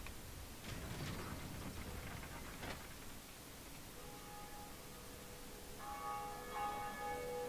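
Bell tolling in the video game Dark Souls: sustained, ringing tones swell in after a few seconds of low rumbling noise and hang in the air, quiet and echoing in the distance.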